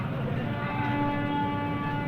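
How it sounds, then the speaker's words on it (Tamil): An EMU electric suburban train pulls away near Palavanthangal with a loud, steady rumble of motors and wheels, and a sustained horn tone rides over it throughout. "சூப்பர் ஹார்னோட கிளம்புது"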